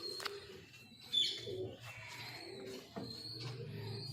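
Teddy breed pigeons cooing close by in a quiet setting, a few soft low coos in a short series with faint chirps between them.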